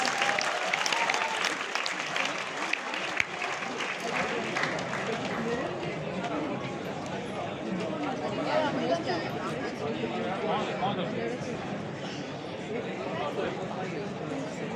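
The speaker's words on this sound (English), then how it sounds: "I request everyone to please clap loudly for all the winners." A hall audience at a Model UN conference award ceremony applauds the winners, steady sustained clapping from a large crowd, fairly distant and even, with some chatter underneath.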